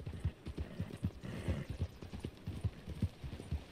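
Hooves of a horse in Red Dead Redemption 2 clop in a regular, rhythmic trot, each low thump distinct and close, repeating steadily with no voices over them.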